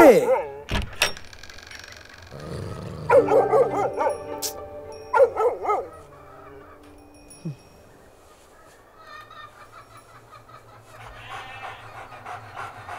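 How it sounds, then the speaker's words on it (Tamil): A dog barks and pants, with sharp close barks early on, then yips, whimpers and heavy breathing, while people talk over and between the sounds. "யாரை பார்த்து குலைக்கிறேன்னு தெரியாதா என் நாய்க்கு"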